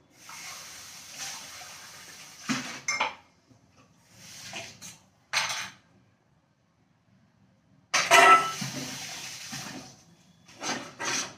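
Dishes, pots and utensils being washed at a sink: bursts of running tap water and clattering metal come in irregular spurts separated by quiet pauses, close to the listener.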